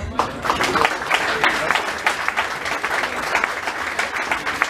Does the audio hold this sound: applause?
yes